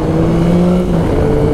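Yamaha Tracer 9 GT motorcycle engine, just out of break-in, pulling steadily under acceleration on a mountain road; a loud, continuous drone with sustained tonal harmonics that sag slightly midway, with no talk.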